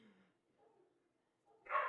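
A dog barks in one loud, close burst near the end after a quiet stretch with only faint, scattered sounds; it may be a single sharp woof from an indoor dog that has been barking all morning.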